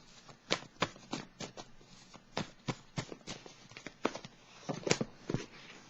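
Playing cards being shuffled for a surprise card draw, a string of crisp, close riffling snaps in quick irregular bursts with no talking.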